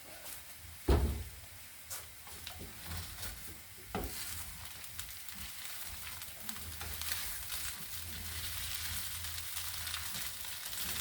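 A meat and oat sausage mixture sizzles and crackles steadily in a frying pan with oil, with a few sharp clanks of a utensil against the pan over the continuous hiss.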